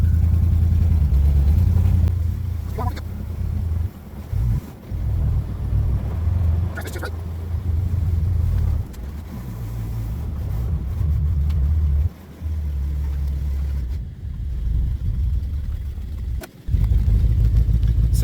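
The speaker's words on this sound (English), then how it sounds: "She's only running on probably 6 or 7 cylinders, maybe 5." Rough-running Ford 460 big-block V8 misfiring on several cylinders, a loud, uneven low rumble that holds steady throughout with brief dips and stumbles.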